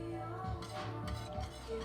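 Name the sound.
stirring Parmesan and Romano cheese into a casserole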